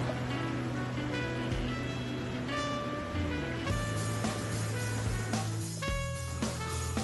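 Fast-running river water rushes through Cataract Gorge in Launceston, a steady broadband roar close by with a few faint tonal sounds over it, and no speech.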